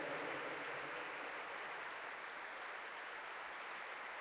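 A church congregation applauds together, a dense, steady wash of clapping that fills the room at even loudness with no speech.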